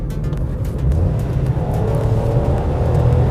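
Suzuki car with AMT automated manual transmission accelerating hard as kick-down drops a gear, engine note swelling into a rising, loud rumble heard from inside the cabin, no talking.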